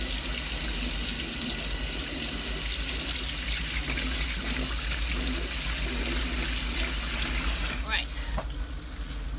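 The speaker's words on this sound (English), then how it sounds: "I'm just gonna wash my hands because ew." Water runs steadily from a kitchen tap while hands are washed, a continuous close splashing rush, with a voice briefly heard near the end.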